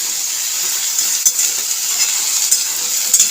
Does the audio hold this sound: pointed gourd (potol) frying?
yes